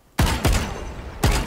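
Three loud, close shots from an Arcane Vandal rifle in the Valorant video game, the first two quickly paired and the third after a short gap, each with a booming tail.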